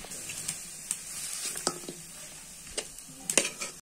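Khesari greens frying in a pan with fish and ginger paste, a faint low sizzle broken by irregular soft pops, taps and stirring clicks, close by with no talk.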